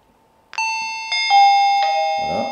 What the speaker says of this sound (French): L'émetteur de sonnette se déclenche.